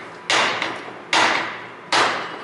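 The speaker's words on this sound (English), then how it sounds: "that's how a rock hammer works with the sharp." Rock hammer striking rock with its sharp end: three loud, sharp impacts about 0.8 seconds apart, each cracking hard and then ringing down, close and alone.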